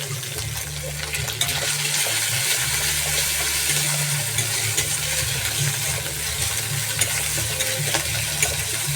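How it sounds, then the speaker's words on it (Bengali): Slit green chillies frying in oil with onion, ginger and garlic, giving a steady, dense sizzle that runs throughout with stirring scrapes and low rumbling underneath. "এটা একটু ভাজা ভাজা হোক।"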